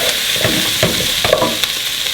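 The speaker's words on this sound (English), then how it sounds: "And stir it, mix the whole masala." Sweet potatoes are stirred into masala in a sizzling pan, with a steady close fry hiss and several soft scraping strokes of a spoon.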